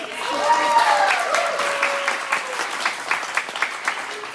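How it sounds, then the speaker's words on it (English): Warm applause for a camp director at a staged Shakespeare reading, a full crowd of clapping hands that stays steady and moderately loud, with a faint tone lingering early on. "Everybody give her a round of applause."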